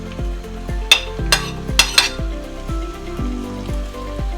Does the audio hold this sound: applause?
no